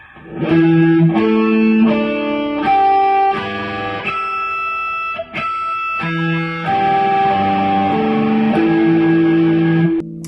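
Distorted electric guitar plays a sequence of sustained notes, each ringing before shifting pitch, loud and close with a brief dip midway.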